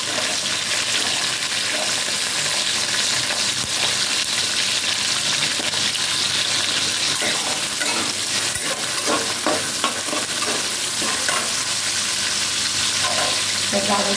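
Diced potatoes, carrots and pointed gourd with chopped green chillies frying in a pan, a loud steady sizzle with stirring scrapes and clatter, no voices.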